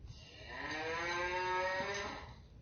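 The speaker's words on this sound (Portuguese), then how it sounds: "Vaca" A cow moo plays as a sound effect from a phone app: one long, close bellow that swells and then fades over about two seconds, with no voices.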